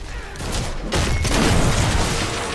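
A fort is destroyed in the Heroes of the Storm video game, producing a loud booming explosion with a crashing rumble that swells after a brief lull and then sustains.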